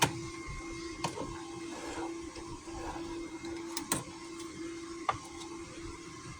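A sewing machine double stitches a shirt with a faint, steady mechanical hum and whir broken by a few soft clicks and taps in a quiet room.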